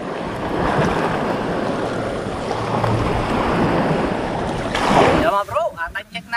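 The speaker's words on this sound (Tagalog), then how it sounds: "Lumakas na yung hangin, malalaki na yung alon." Strong sea wind buffets the microphone over the wash of big waves beside a small fishing boat on a tilapia fishing trip, a dense roar that breaks into gusty bursts near the end; someone speaks briefly at the end.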